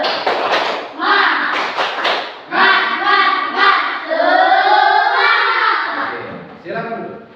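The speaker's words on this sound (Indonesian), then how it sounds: "tepuk semangat" Schoolchildren in a classroom perform a rhythmic spirit clap chant, bursts of sharp claps mixed with loud, close children's voices chanting in unison, rising and falling in a patterned cadence.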